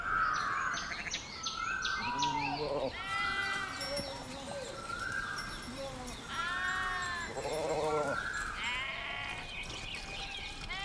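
Sheep and goats in an animated film bleat repeatedly in quick overlapping cries, some wavering and high, with faint birdsong mixed in.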